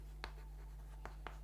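Chalk or marker strokes on a classroom board as an electric-field formula is written, a few short scratchy taps spaced apart over a steady low hum.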